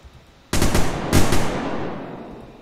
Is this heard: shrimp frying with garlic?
no